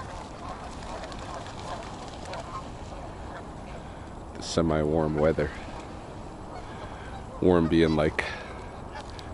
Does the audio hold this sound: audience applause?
no